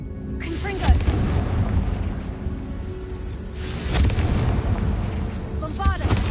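A Confringo fire spell goes off in Hogwarts Legacy with deep booming blasts, loud rumbling bursts repeated a few times inside a tomb, with a voice speaking over the combat.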